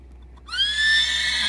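A horse neighs loudly and close by at a barn after being unloaded from an arena trip, one sustained whinny with a rising start and long wavering tail, no talk.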